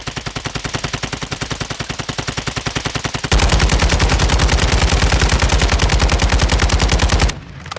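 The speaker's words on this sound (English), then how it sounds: "Someone just sniped at us." Rapid, steady automatic gunfire in Call of Duty: Modern Warfare II, loud and close, growing heavier midway and cutting off near the end, with no talk.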